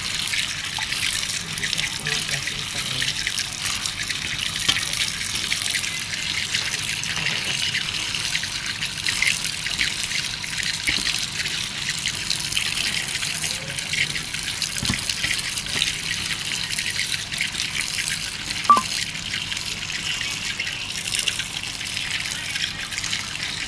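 Steady running tap water splashing into a sink while washing saluyot (jute leaves), a continuous hiss and trickle with faint handling sounds, no one speaking.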